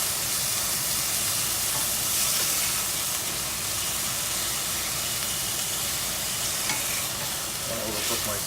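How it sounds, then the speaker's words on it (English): Beef medallion steaks sear in a hot pan, a steady dense sizzle and hiss with faint stirring scrapes running unbroken throughout. "Steaks look just about done. Got a nice sear there."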